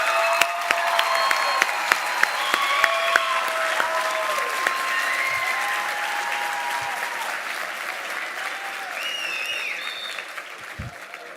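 A high school graduation audience in an auditorium in Jeddah applauds the mothers, steady dense clapping from many hands that gradually thins, with scattered cheers and whistles over it.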